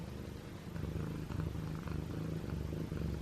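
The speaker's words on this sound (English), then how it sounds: "Both of these cats purr so loud." A rescued feral kitten purrs loudly and close, a rough rhythmic rumble that runs unbroken with no other sounds.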